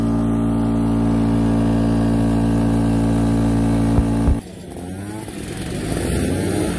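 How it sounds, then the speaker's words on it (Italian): Mopeds ride up a mountain road near Gressan, their small engines droning loud and steady with a buzzing tone, then dropping off abruptly to a lighter, wavering hum as they pass. "noi adesso stiamo passando con i nostri motorini"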